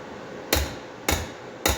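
Sheet metal being hammered to form headlight stanchions, three evenly spaced, sharp metallic blows about half a second apart, close and fairly loud with nothing else heard between them.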